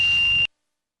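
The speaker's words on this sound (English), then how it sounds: "cause the BCS warning light to flash and the platform alarm to sound" A JLG Ultra 1250 AJP boom lift's platform alarm sounds a single sustained electronic tone steadily for about half a second, then cuts off abruptly into silence.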